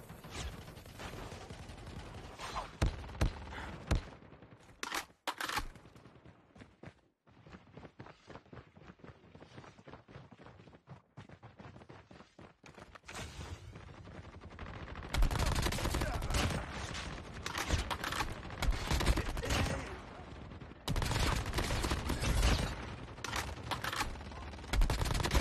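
Rapid bursts of video game gunfire, dense rattling volleys with brief pauses, loud and close, growing more intense toward the end with no talk.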